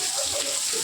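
Heavy rain pours steadily outdoors near a festival pandal during an eleven-day puja, a dense continuous hiss of falling water, close and loud with no pauses.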